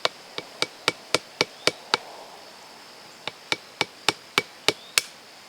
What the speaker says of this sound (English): I can really crack the nut without cracking my fingers too badly